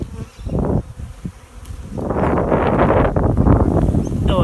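A honeybee swarm drones loudly and continuously up close as the bees pour into a hive box outdoors, the dense buzzing broken briefly near the start before settling into a sustained hum, with some wind on the microphone.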